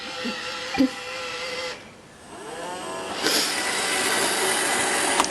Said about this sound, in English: I'll just press this button and away she goes.